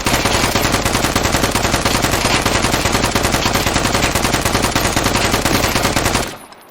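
In the survival shooter video game Deadside, a machine gun fires loud, rapid, unbroken automatic bursts close up for about six seconds before cutting off abruptly.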